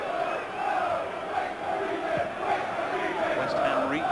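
Chelsea supporters boo across a First Division football stadium, Chelsea versus Manchester United in 1991/92, a steady broad crowd roar with sustained jeering held throughout.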